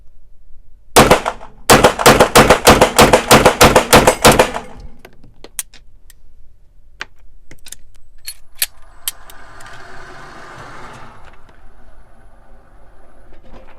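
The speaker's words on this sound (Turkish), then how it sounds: "Biraz daha seri atacağım bakalım şimdi." A custom CZ Shadow 2 pistol fires a rapid string of about a dozen loud, sharp shots close by at a range, followed by a few scattered clicks and faint background noise.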